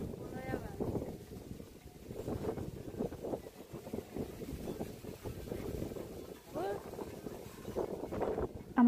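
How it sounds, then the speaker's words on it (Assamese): A breeze blows outdoors on a sunny day, gusting against the microphone in a low, uneven rumble, while voices murmur faintly in the background. "আমাৰ গানৰ লগত মিলাই ইমান ধুনীয়াকৈ বতাহজাক আহিছে"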